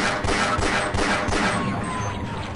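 Rapid gunfire crackles and bangs through Half-Life in a dense, continuous volley of close shots, with blasts overlapping across the whole moment.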